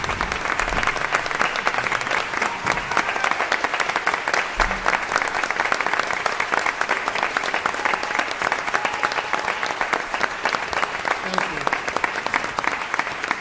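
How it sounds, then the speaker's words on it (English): Sustained round of applause from an audience at a school board meeting, a dense steady clapping that fills the whole stretch at even loudness with a faint crowd murmur beneath. "join me with a round of applause for Rob tonight"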